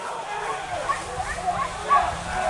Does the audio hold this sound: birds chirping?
no